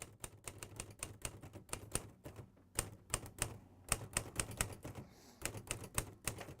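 A Cambridge typewriter clatters with a rapid, uneven run of sharp, close key strikes and mechanical clacks, interrupted by short pauses.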